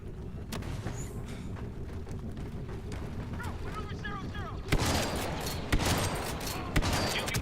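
Star Wars Battlefront 2 blaster fire crackles in sustained bursts, starting distant and muffled, then erupting into a loud, dense fusillade with sharp repeated cracks in the final seconds.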